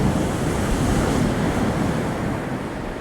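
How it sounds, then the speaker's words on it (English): Ocean waves break on the beach at Hornsea on the UK east coast, a loud steady roar of surf with heavy wind rumble across the microphone and no voices. "That's the waves."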